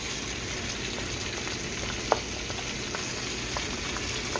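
Trout fillets sizzling in a pan with butter, a steady close frying hiss with a few small pops and crackles, no voices.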